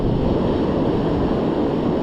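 Ocean waves washing on a San Diego beach during shore fishing, a continuous dense roar of surf mixed with wind buffeting the microphone, loud and close, with no talk.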